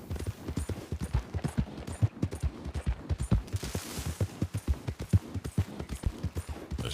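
Horse hooves clip-clop in a snowy video game landscape: a fast, steady run of close hoofbeats with no break, and a brief airy swell partway through.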